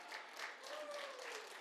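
An audience at a university awards ceremony claps, a soft, dense patter of applause throughout, faint and somewhat distant, with a voice briefly heard over it.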